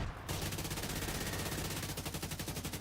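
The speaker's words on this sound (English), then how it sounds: "Why did we put on mortar turrets" Rapid, dense gunfire-like bursts from mortar turrets in The Division 2 shooter game, a loud continuous barrage of repeated blasts filling the whole stretch with no speech.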